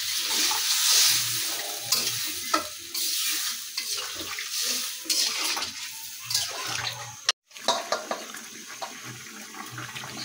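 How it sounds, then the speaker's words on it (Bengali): Fish curry broth for a chitol fish dish bubbles and simmers in a pot, a continuous watery burble with soft pops and stirring clatter, fairly quiet and up close. "ঝোলটা বলক এসে পড়ছে"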